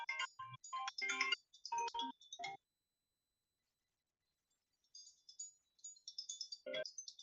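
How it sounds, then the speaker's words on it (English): A cell phone ringing with an incoming call, a bright melodic ringtone in quick bursts, then a pause of silence before the tune resumes, close and clear with no voices. "Oh, I'm getting a phone call from Laughlin,"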